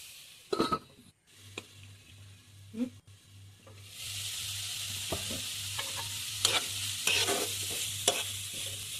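Cabbage thoran with salt being stirred in a pan, a spoon scraping and turning the shredded cabbage over a steady frying sizzle, with a few louder clatters of utensil against the pan.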